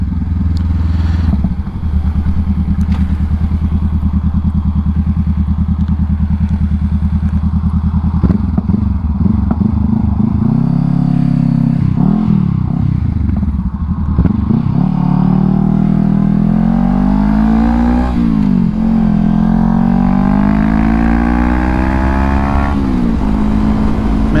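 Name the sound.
Honda CBR500R motorcycle accelerating past another vehicle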